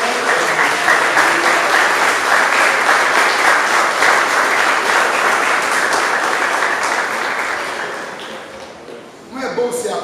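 Church congregation applauding during a sermon, loud steady clapping from a large crowd that tapers off toward the end before a voice resumes.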